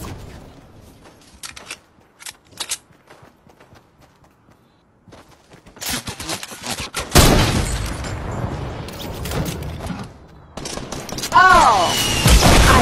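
Sniper rifle fire in the Fortnite video game: scattered faint clicks at first, then a loud stretch of dense, overlapping shot bursts and impacts that carries on to the end.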